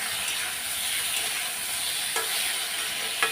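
Plantain and hilsa fish curry frying in a pan at home, giving a steady, moderately loud sizzle and hiss with a few brief stirring clicks, no voices.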